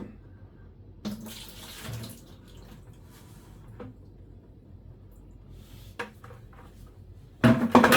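Water is poured and splashed into a container while making bubble hash, with quiet gaps between a few sloshing pours and a loud, close gush at the end.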